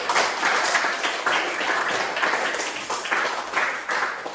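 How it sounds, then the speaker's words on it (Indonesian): A classroom group claps together in steady applause for several seconds, close and lively, with no talking. "Oke, beri tepuk tangan buat Yanti."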